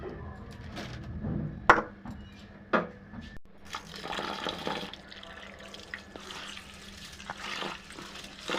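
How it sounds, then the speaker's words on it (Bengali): Rice is washed in water in a home kitchen, with splashing, swishing and tap flow up close, some clinks early on and steadier running water later. "এবারে চালটা ধুয়ে দিয়ে দেবো।"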